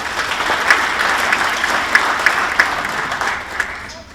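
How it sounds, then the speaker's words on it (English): Steady, full audience applause fills a hall at a sports hall of fame induction ceremony, saluting sponsors, with a few louder individual claps popping out of the continuous wash. "a round of applause for BMS Logistics and Right Pack Inc."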